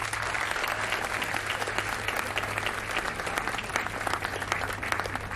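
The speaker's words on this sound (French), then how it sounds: "Vous pouvez l'applaudir pour l'encourager." Sustained applause from an audience at a commemoration ceremony for the abolition of slavery and the slave trade, dense and even throughout with a steady low hum beneath, loud and close, no talking.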